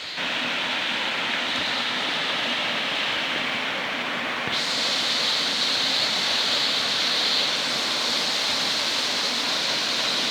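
Rushing water pours continuously at Powerscourt waterfall, a dense, steady roar heard close up that swells slightly louder halfway through.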